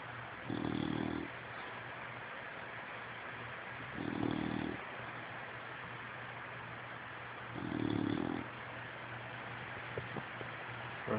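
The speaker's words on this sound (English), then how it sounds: "Notice the snoring sounds." A sleeping animal snores in three slow, evenly spaced rasping breaths a few seconds apart, close and soft over a constant low background hum.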